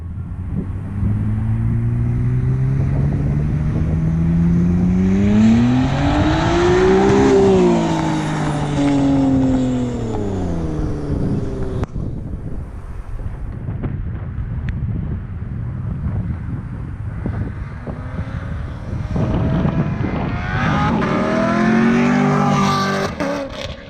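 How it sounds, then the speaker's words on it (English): A C7 Corvette and an Acura NSX with loud aftermarket exhausts pass by on the road, one engine droning as it rises and falls in pitch past the listener, then a second roar builds near the end, with wind buffeting the microphone. "See how the car sounds going down the road."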